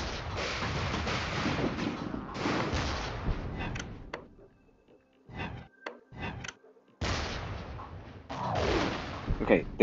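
Artillery units firing in the strategy game REDCON: several booming blasts come in bursts separated by near-silent gaps, with a voice speaking between some of the shots.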